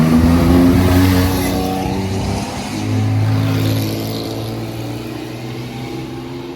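Ford GT40 race car departing the Tour Auto in Paris, its loud engine rumbling and revving close by, with a surge of throttle midway before settling to a steady drone.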